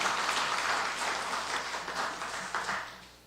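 A church congregation claps in encouragement for volunteers: a continuous round of mid-level applause from a seated crowd, fading out toward the close.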